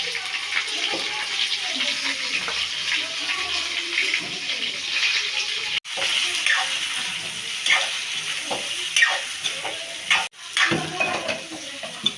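Stuffed brinjals frying in hot oil that was first tempered with cumin and curry leaves, a steady crackling sizzle throughout with brief breaks, close and fairly loud.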